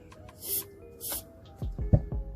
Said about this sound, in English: give it a little spray on the inside and on the screw